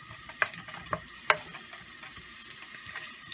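Ginger and garlic sizzle steadily in a hot pan during stir-frying with shrimp, a constant crackling hiss broken by a few sharp spatula scrapes, close and with no one talking.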